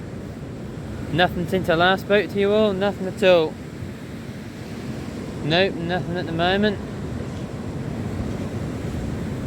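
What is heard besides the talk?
sea waves breaking on Gorleston beach at night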